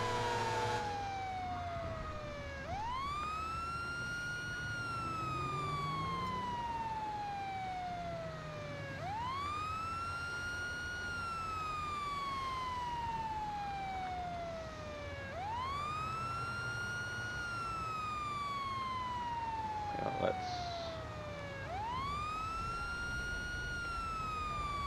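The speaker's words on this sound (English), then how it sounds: "Let's kill the siren for a minute." A video game police car siren wails, rising and falling in slow, repeated sweeps, about four cycles, steady and prominent throughout.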